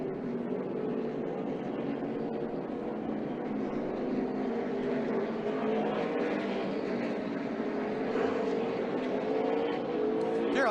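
A NASCAR Cup Series race car is driven hard into a corner, its engine a continuous droning roar with a rising and falling pitch, loud and sustained throughout.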